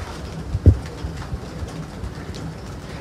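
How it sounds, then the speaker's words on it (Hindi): A pigeon coos in a low, soft call near the start and again briefly at the end, over a quiet outdoor background of pigeons kept in Karachi. "और सख्त कबूतर है हवा में"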